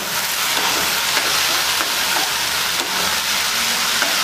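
Prawns frying with dark soy sauce in a hot pan, stirred as they cook: a loud, continuous close sizzle with faint scraping of the spoon and no talking.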